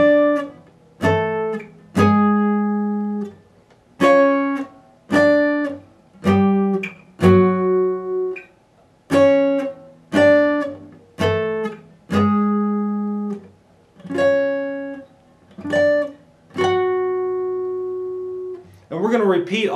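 Slow acoustic guitar passage from the second interlude of a song, a steady series of plucked note groups with ringing sustain, close and clear, played alone without talk.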